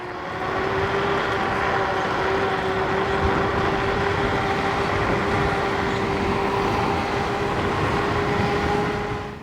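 Mukuta 10 Plus electric scooter slowing through a turn: a steady high motor whine with a constant tone over broad wind and road rush, continuous and fairly loud.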